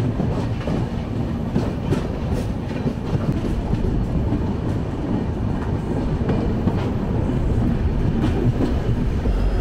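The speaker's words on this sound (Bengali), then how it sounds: "আমাদের ট্রেন এখন প্রবেশ করছে নিউ আলিপুরদুয়ার স্টেশনে" Kamrup Express passenger train running into New Alipurduar Junction, a steady loud rumble of rolling wagons with rhythmic wheel clatter throughout, no voices.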